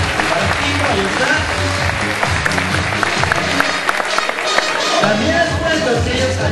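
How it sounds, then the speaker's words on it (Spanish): Crowd applause at a seal show, rolling steadily throughout with a steady throbbing rumble beneath and scattered crowd voices mixed in, loud and close. "Aplausos desbordantes para Tito"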